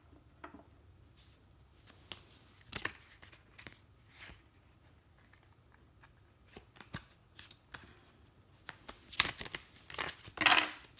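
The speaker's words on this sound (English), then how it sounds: "I really can't shuffle today. The cards are all very jumpy." Soft, intermittent papery flicks and riffles of tarot cards being handled and shuffled close by, growing busier toward the end.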